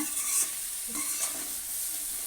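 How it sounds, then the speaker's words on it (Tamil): Green bean poriyal is stirred in a pan, a spoon scraping through the vegetables over a soft steady sizzle in a few quick strokes, close and clear with no talking. "இந்த மாதிரி நல்லா கிளறி விட்டுருங்க"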